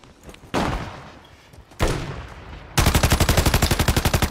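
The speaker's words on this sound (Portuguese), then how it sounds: "Ah, continua atirando, continua atirando." Gunfire in the Call of Duty video game: two heavy blasts with decaying tails, then a loud, rapid automatic burst of evenly spaced shots running to the end, with no talk.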